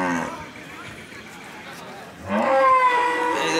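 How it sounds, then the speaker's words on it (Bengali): Cattle mooing at a busy livestock market on a school field, a loud drawn-out low moo rising near the end over crowd murmur and someone talking throughout. "দেখুন পর্যাপ্ত পরিমাণের গরু আছে।"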